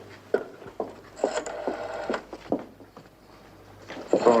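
Telephone number dialed by hand in a 1972 setting, with a series of short clicks and clunks at uneven intervals, close and fairly quiet, over a low background hum.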